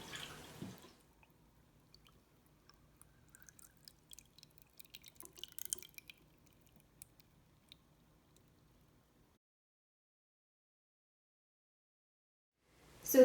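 Homemade oat milk drips through a strainer in a quiet kitchen, leaving scattered faint drips and small splashes that slow and die out into silence.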